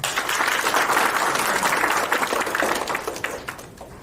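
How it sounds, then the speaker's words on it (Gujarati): A hall audience at a medical center function breaks into loud, dense applause, steady for about four seconds and thinning slightly toward the end. "સેફી કંપની અને હ્યુમેનિટી ફાઉન્ડેશનના દરેક મેમ્બર માટે એકવાર ગડગડાટ તાળીઓથી છે"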